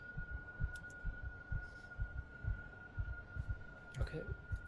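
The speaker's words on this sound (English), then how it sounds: "even at that like dull bit, the heartbeat makes me really uncomfortable." A steady, muffled heartbeat sound effect thuds in a regular double-pulse rhythm throughout a Call of Cthulhu tabletop session, set over a low hum with brief faint chatter near the end.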